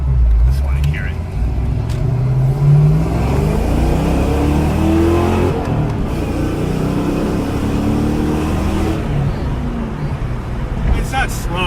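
A stock Ford Mustang engine accelerates up close, a continuous loud drone with rising and falling harmonic sweeps as it pulls through the gears, while people talk over it.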